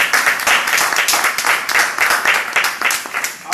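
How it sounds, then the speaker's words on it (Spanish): Audience applause at a Pan-African Movement tribute to Winnie Mandela in Barcelona: dense, sustained clapping from a crowd, steady and fairly loud throughout with no speech. "quiero pedir un aplauso para todos vosotros y para Winnie Mandela"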